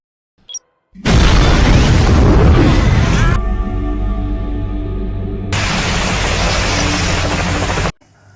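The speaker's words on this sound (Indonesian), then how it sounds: "dalam hitungan 30 detik, mobil pemadam kebakaran yang dibawa Jabar meledak" A fire truck explodes with a loud, sudden blast after a brief silence and keeps roaring, dips, then surges again before cutting off abruptly.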